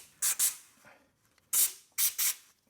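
Compressed air is blown into grease-filled threaded holes in short, sharp hissing bursts, two quick pairs and a single blast, with brief quiet gaps between them.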